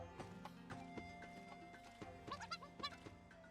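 Horse hooves clip-clop in the Miitopia video game, a steady run of regular, fairly crisp hoof beats over quiet game music, with a few brighter chiming notes near the end.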